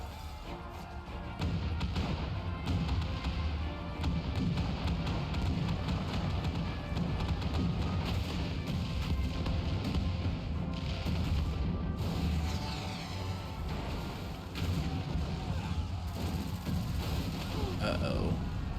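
Cannons fire in Final Fantasy XIV Stormblood, heavy thuds and crashing booms set in a busy, loud battle mix that continues steadily, with game dialogue and music mixed underneath.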